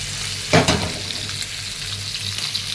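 Fish frying in a hot wok, with a sharp burst of sizzle as it hits the oil, then a steady crackling hiss that carries on without any voices.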